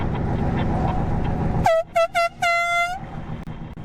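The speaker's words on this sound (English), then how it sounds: "Should have got like 5 air horns." Truck air horns honk in a slow-rolling Freedom Convoy: one long blast, two short toots, then another long blast, loud and close over steady road and engine rumble.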